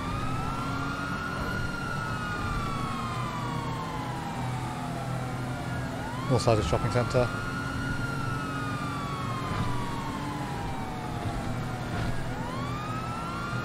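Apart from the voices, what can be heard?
police car sirens in video game GTA V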